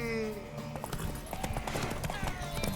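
Horse hooves clip-clop in The Witcher 3 video game, a steady rhythmic beat of mid-distance footfalls under game music and voices, with a brief whinny hinted early on.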